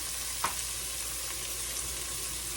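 Chopped vegetables sauteing in hot bacon drippings give a steady close sizzle and crackle, with a couple of sharp pops and utensil scrapes. No one speaks.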